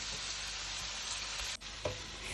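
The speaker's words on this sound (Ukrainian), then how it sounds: "В пательню кладу кусочок масла і викладаю, обсмажую з двох сторін." A steady, even sizzle of meatballs frying in butter in a pan, with a soft clack of a utensil partway through; no talking.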